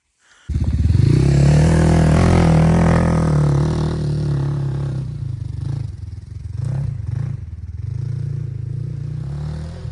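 Motorcycle engine labouring along a muddy forest track, a loud steady drone that swells early on, then eases to a lower rumble with brief clattering bumps and scrapes.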